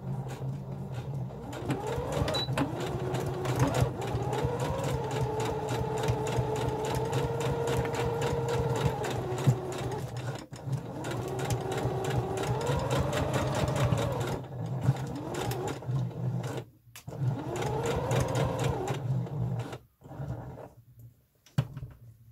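A Carina Professional sewing machine stitches a corset, its motor whirring steadily in long runs with brief pauses between seams, close and fairly loud with no talking.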